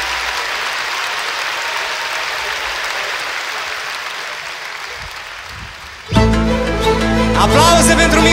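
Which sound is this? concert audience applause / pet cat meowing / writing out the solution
concert audience applause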